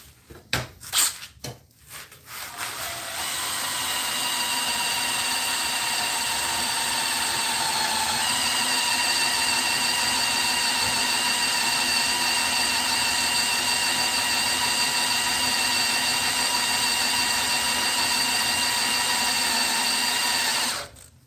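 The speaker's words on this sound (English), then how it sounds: "as I'm drilling this, I can feel the cool air coming off of this motor" DeWalt impact driver boring into steel: after a few clicks and starts, a loud steady motor whine runs continuously close by for about eighteen seconds before cutting off.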